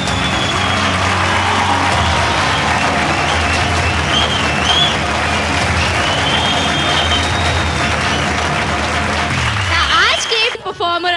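Loud, sustained audience applause and crowd cheering at a Bhojpuri singing talent show, a dense continuous roar that cuts off abruptly near the end.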